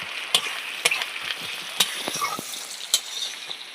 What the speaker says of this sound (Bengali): মশলা একটু ভাজা ভাজা করে নিই